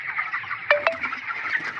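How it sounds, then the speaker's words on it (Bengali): Chickens in a poultry farm at night give a dense, murmuring chorus of calls, with two sharper close squawks standing out briefly. "মুরগিগুলোকে একটু ডাকিয়ে দিচ্ছি"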